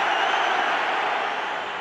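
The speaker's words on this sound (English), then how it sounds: "struggling to hear with the roar of the Irish crowd" Roar of the Irish rugby crowd at an Ireland versus New Zealand international test match, a steady, loud, dense wash of cheering that holds for the whole moment.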